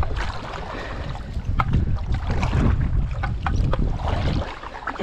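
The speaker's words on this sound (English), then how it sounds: "battling the wind." Strong gusty wind buffets the microphone while paddling a boat near Bear Island at Hammocks Beach State Park, a continuous loud roar with watery splashes and no voices.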